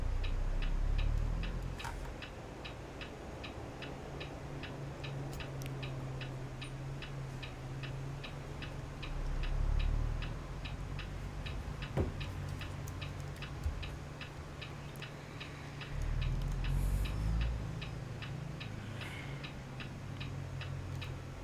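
A truck's turn signal clicks in American Truck Simulator, a steady, evenly spaced tick-tock that runs throughout over a low engine rumble.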